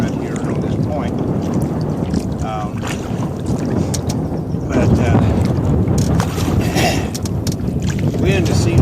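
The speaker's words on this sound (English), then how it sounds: "I am getting a little bit of wind in my face right here on this point." Strong wind gusts buffet the microphone on a lake shore point during a canoe outing, a loud continuous low rumble that swells and surges with faint water movement beneath.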